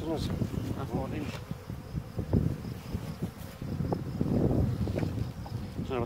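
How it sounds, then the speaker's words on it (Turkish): Honeybees buzz around an open beehive during hive inspection, a steady dense drone under close conversation, with some wind noise on the microphone. "Binlerce arı var burada."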